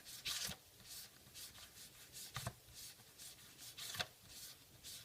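A small quartered sponge rubbing brown ink around the edge of a paper leaf card, giving soft repeated scrubbing strokes in an irregular rhythm, faint and close with no talking.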